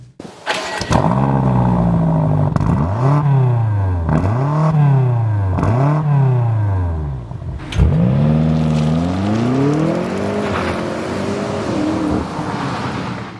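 A 2022 BMW M5 CS's 4.4-litre twin-turbo V8 engine revs hard through several gears, each pull rising then dropping at the shift, ending in a long sustained acceleration, loud and close.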